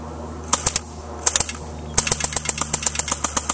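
Rapid bursts of automatic gunfire aimed at a boat outdoors, a short volley, a pause, another burst, then a longer sustained string of sharp, loud, evenly spaced shots.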